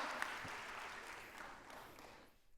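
A church congregation claps in a brief burst of dense, steady applause that fades out within a few seconds.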